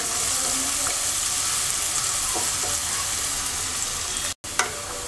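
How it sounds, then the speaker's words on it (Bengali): Three medium chopped onions fry lightly in a pan for a pumpkin and hilsa head curry, giving a steady close sizzle with occasional stirring scrapes and a brief drop to silence near the end. "পেঁয়াজটাকে হালকা ভেজে নেব"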